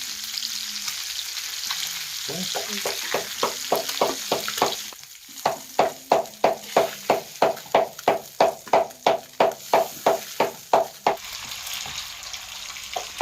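Fish frying in a pan village-style, a bright hissing sizzle broken by a regular run of loud rhythmic scraping strokes, then settling back to a quieter sizzle.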